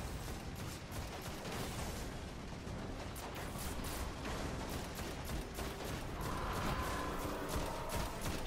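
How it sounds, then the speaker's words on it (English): Rapid machine gun fire in the video game Destiny, a dense, steady stream of shots running throughout at an even loudness with busy game sounds layered in. "the machine gun is not that great against these"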